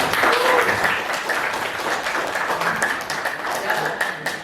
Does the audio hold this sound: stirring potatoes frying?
no